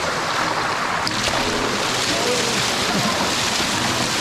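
Water surges through opened floodgates onto a hydroelectric water wheel, a steady loud rushing roar filling the whole clip without a break.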